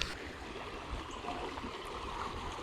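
A small, clear creek running through a residential neighborhood, its steady low burble and gurgle of flowing water continuous and fairly quiet throughout, with no voices.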